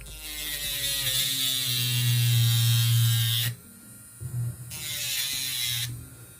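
A Delanie rechargeable digital electric nail file rated at 35,000 RPM, running on setting 8 and filing straight across a nail. It gives a loud, steady high-pitched whine that drops out briefly and then resumes.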